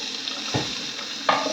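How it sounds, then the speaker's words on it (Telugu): Vegetables for a chicken ravioli dish frying in a pan, a continuous close sizzle broken by two louder bursts as ingredients are stirred or tossed, with no voices. "దాన్ని చూపించిన వెజ్జీస్ అన్ని ఫ్రై చేసుకోవాలి"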